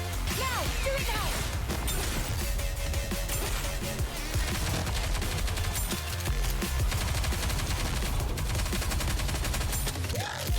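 Heavy bombardment gunfire in the Nikke x Stellar Blade event, a dense, continuous barrage of shots and crashing impacts that stays loud and unbroken throughout.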